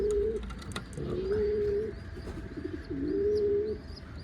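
Pigeons coo in low, rolling calls repeated several times, with faint chirps and rustling from a crowded coop around them.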